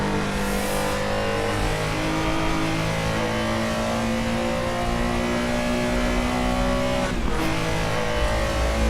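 Porsche RSR race car in Assetto Corsa, a rear-engined racer with a front oil cooler, roars at steady high revs throughout, loud and close, with a brief shift or bump near the end and no talk.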